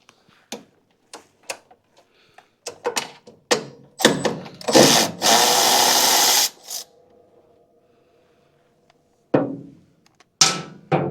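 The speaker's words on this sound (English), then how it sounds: "Just take these two 3/8 bolts out." A power tool backs two 3/8 bolts out of the brake box on a Toro zero turn mower, with scattered ticks and clanks first, then a couple of loud whirring bursts separated by quiet.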